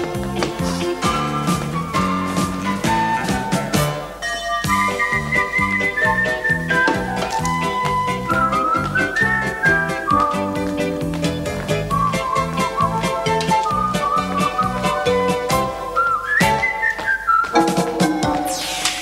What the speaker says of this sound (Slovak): ďalej sa píska